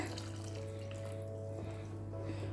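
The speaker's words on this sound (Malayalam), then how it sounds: "കുറച്ച് വെള്ളം കൂടി ഇതിലേക്ക് ഒഴിച്ചു കൊടുക്കണം" A steady stream of water splashing into a pan of egg Mughlai curry, continuous and fairly quiet over a low background hum, with no voices.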